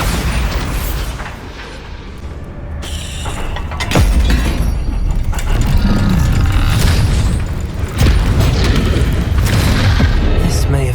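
Booming spell blasts and shattering debris from a Bombarda spell in a Hogwarts video game, several heavy impacts spaced a few seconds apart over continuous loud rumbling game audio.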